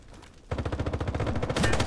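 Rapid automatic gunfire rattles in a shooter video game, sudden and loud after a quiet moment, a steady stream of closely spaced shots that keeps going.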